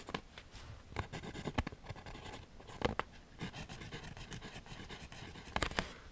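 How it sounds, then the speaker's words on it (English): Pen or marker scratching across an unusual, hard-to-write-on surface: soft, close, irregular strokes and taps with short pauses between them. "Now this is really not the easiest substance to write on"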